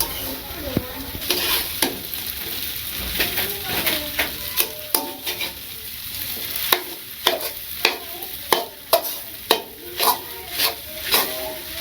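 Food is stirred and fried in a pan in a village kitchen: a steady sizzle punctuated by repeated sharp scrapes and clacks of the utensil against the pan, with faint talk in the background.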